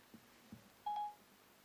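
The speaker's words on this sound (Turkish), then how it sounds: "Mahmut Kemik Kıran diğer telefondan aranıyor." A phone placing a call through Siri gives a single short, pure electronic tone after a couple of faint taps, quiet and close with no talk.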